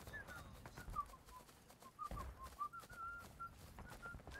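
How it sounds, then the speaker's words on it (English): A player character in the Civil War video game War of Rights whistles a series of faint, wavering notes in a broken, uneven rhythm, with soft in-game movement sounds underneath. "Dang it! I wish I could whistle."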